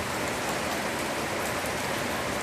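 Heavy rain pours down in Pettah, a steady, dense broadband hiss of drops drumming on surfaces that stays even and close throughout, with no voices.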